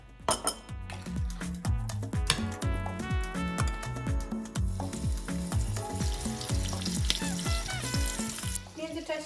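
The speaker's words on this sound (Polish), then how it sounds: "jak smaży nam się kurczak" Chicken frying in rice oil in a pan gives a continuous sizzle with occasional utensil clinks, partly masked by loud rhythmic background music.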